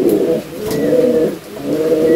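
Pigeons coo loudly and close by, three throaty, rolling coo phrases following one another with brief dips between, alone without talk.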